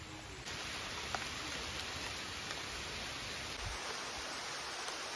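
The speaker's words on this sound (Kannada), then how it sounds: "ಮಳೆ ಅಂತೂ ಹಚ್ಚಿ ಕಟಾತಿತ್ತು." Heavy rain near Kalakeri lake makes a faint, even, unbroken hiss heard from a distance, with no voices over it.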